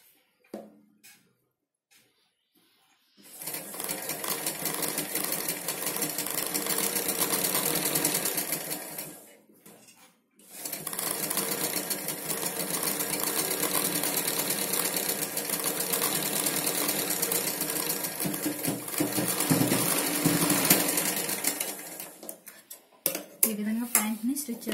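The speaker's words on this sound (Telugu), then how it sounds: "ఈ విధంగా ప్యాంట్ని స్టిచ్ చేసుకుంటాను" A sewing machine stitches a tight-fit Punjabi dress pant, running in two long, loud, steady whirring bursts split by a brief pause, with no talking.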